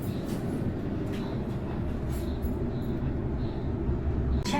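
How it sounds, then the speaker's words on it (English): Steady rumble inside a moving airport train in Sydney, low rolling noise with faint rattles and clicks, continuous and fairly loud, no talking. "We're on the train."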